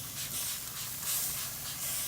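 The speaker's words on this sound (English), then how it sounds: "Let me spritz this right quick." Spray bottle misting a BBQ pork butt with a soft, continuous hissing spritz, close and fairly quiet, with no talking.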